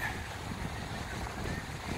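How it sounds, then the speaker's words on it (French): Wind blowing outdoors on a sunny day in Miami, a steady broadband rush with buffeting against the microphone, continuous and fairly loud throughout. "Il y a du vent aujourd'hui"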